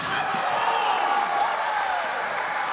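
A pro wrestling crowd at a Prospect Pro Wrestling show cheers and applauds, a dense, steady roar with claps and shouts filling the hall.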